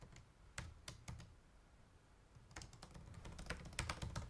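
Fingers typing on a computer keyboard, quiet close clicks in a loose burst, a brief pause, then a faster steadier run of keystrokes.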